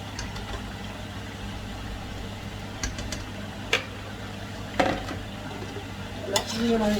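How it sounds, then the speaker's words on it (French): Meat is stirred in a cooking pot, with a spoon scraping and clinking against the metal in a few distinct strikes over a low steady hum and faint sizzle, and a voice speaks briefly. "Là, vous mélangez, toujours mélanger."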